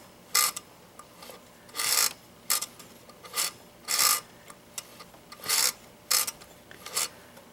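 Singer Featherweight sewing machine in need of attention, its hand wheel turned by hand to make a series of short scraping, grinding bursts in an uneven rhythm, close and fairly quiet with gaps between.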